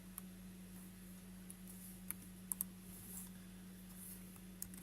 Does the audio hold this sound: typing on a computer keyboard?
yes